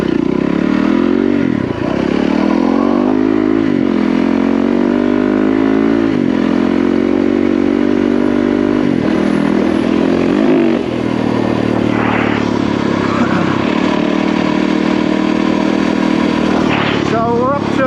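Motorbike engine droning steadily while riding on state forest trails, with loud continuous harmonics that rise and fall as the rider shifts and throttles, and clattering and scraping from the bike over rough ground.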